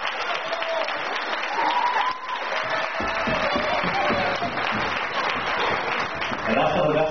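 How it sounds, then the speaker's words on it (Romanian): An audience at a Romanian gathering in Perugia applauds a guest speaker, sustained mixed clapping and some cheering from a crowd, steady and fairly loud throughout with a voice briefly audible over it. "vreau să-l invit lângă mine și să-l aplaudați cu toții, Cristian Luc din Perugia!"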